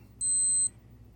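A G-Shock G-8000 digital watch gives one short, high, pure electronic beep from its countdown timer, clear and close against a quiet background.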